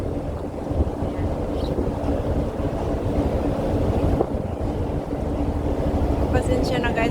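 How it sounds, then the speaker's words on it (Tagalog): Strong wind buffets the microphone on a harbour boat ride in Hong Kong, a loud continuous rumble over engine and water noise, with brief voices in the background. "Pasensya na guys at mahangin."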